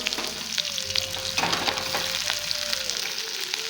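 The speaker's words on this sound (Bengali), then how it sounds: "তেলটাও গরম হয়ে এসছে, তো পেঁয়াজগুলো দিয়ে দিচ্ছি" Onions dropped into hot oil, with chopped chilli and ginger-garlic paste nearby, set off a bright, continuous sizzle with stirring clatter, close and moderately loud.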